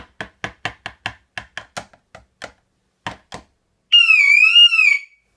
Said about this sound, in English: So I'm going to just tap the window and pretend I'm trying to break the window open.